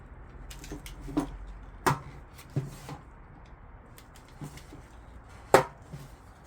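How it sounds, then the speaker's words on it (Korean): A utility knife makes light scoring cuts on car audio speaker cable insulation during door wiring work, producing a few faint, sparse ticks and scrapes close up with quiet pauses between them. "이걸 쭉 뺄 수가 없으니까 이걸 살짝 칼질을 가볍게 해서 한번 까보고"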